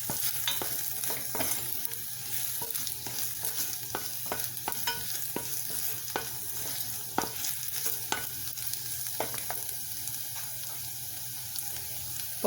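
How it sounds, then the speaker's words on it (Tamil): Kashmiri chili powder is sautéed in oil for a chickpea kulambu, a soft, even sizzle under frequent light scrapes and taps of a spoon stirring in the pan, heard up close. "இப்போ இதையும் கொஞ்சம் ஆயிலில் வதக்கிக்கலாம்"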